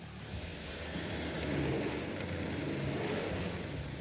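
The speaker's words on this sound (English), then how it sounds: "to help get the big block running" A vintage car's big block V8 runs steadily at idle with a deep, continuous rumble that swells slightly midway, loud and close, with no talk over it.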